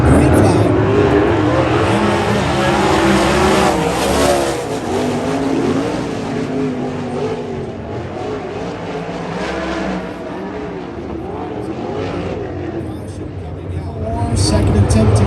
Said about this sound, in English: June 10 for Carly Holmes, her career best at this facility on turn number 4, green flag